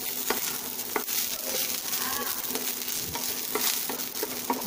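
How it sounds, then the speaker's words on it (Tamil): Oil sizzles and crackles steadily in a pan as dried red chilies and curry leaves fry, with occasional stirring scrapes and clinks, close by and continuous. "இப்போ கொஞ்சம் வரமிளகாய், அடுத்த கொஞ்சம் கருவேப்பில"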